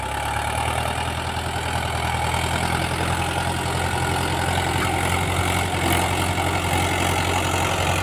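A 50 hp four-wheel-drive tractor pulling a cultivator through a field runs with a continuous, heavy, droning engine note at steady load, loud and close throughout with no talking.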